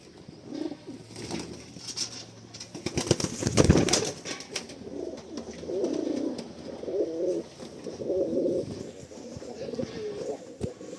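A pigeon with heavily feathered feet coos in low repeated phrases while its wings flap in a loud burst of beats near the middle, with someone speaking at times.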